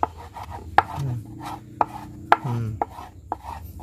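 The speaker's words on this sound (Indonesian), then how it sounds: "Terus kalian cincang seperti ini." Close knife chops minced silkworms on a board as betta fish food, several sharp irregular strikes with soft scraping between them, no talking.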